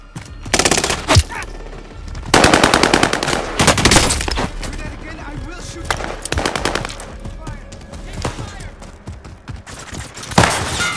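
Automatic-weapon fire in Call of Duty: Warzone rattles out in rapid bursts and single shots, loud and close, with heavy thuds between volleys and players' voices talking over the action.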